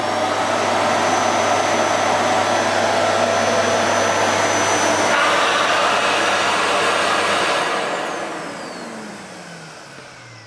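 A Hoover Freemotion TFB2282 cylinder vacuum cleaner runs at full power with a loud, steady, close whooshing roar. The drone drops away near the end as the motor winds down.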